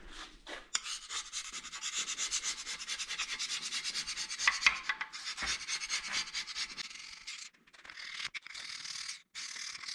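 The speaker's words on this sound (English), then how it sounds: "I used the red Scotch-Brite pad to clean it up" A red Scotch-Brite pad scrubs the oil pan surface of an LS engine block in steady, close rasping strokes with brief pauses, the rubbing continuing for most of the stretch without any talk.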